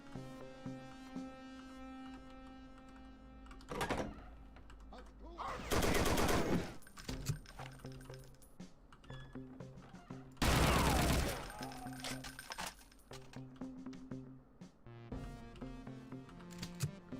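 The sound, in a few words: gunfire from the video game Brutal Wolfenstein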